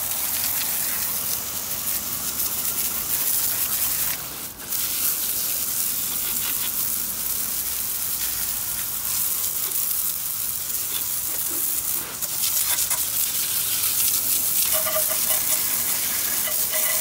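Steady hose water rinsing mud off a 1986 Honda XR250R dirt bike outdoors in Oregon winter, a continuous hissing spray close by with brief dips where the stream pauses or shifts.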